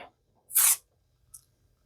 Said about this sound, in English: So you spray it on here and spray it on the back of whatever you're sticking to this